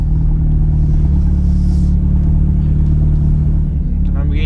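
A Lamborghini Aventador at an outdoor car show, a loud continuous low engine rumble idling close by, with voices of people nearby mixed in.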